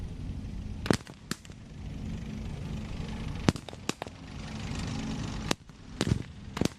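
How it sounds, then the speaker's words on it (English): Artillery fire at a tank battle re-enactment, heard as sharp, scattered bangs and cracks at irregular intervals over a steady rumbling background, some louder and nearer than others. "There's still some artillery coming in, but it's not going to save this position."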